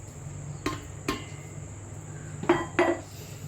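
Snack ingredients are mixed in a bowl, with a few sharp clinks and scrapes of a utensil against the bowl, close and sparse, over a steady background hum and insect-like chirping.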